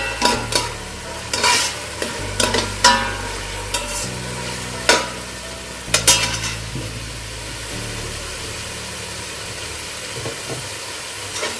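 Coconut rice frying in a pan over raised heat, with a steady soft sizzle broken by repeated scraping stirs of a spoon against the pan, close and clear with no talking.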